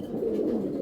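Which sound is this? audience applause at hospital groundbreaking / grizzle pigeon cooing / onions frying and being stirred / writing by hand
grizzle pigeon cooing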